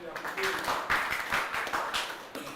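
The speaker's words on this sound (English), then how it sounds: "please, a round of applause." An audience at a press conference for the Ijebu Premier League draws breaks into scattered applause, a patter of claps running beneath someone speaking over a microphone.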